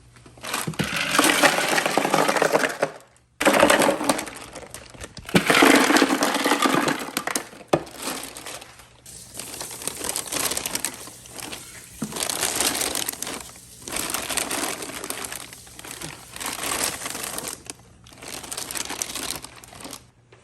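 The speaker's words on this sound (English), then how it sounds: "We're gonna lift the sides of the bag and we're gonna add ice" Ice cubes poured and shaken into a brine bag around a whole turkey, giving loud crunching, crinkling bursts of plastic and ice in several pulses with brief pauses, close by.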